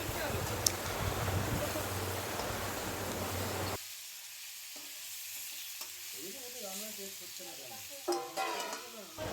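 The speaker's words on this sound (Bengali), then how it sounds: "মাছের ঝাল করব বলে মাছ ভাজতে বসিয়ে দিয়েছি" Fish frying in oil seasoned with salt and turmeric, a dense loud sizzle for the first few seconds that drops to a quieter crackle, with stirring clatter and brief scraping near the end.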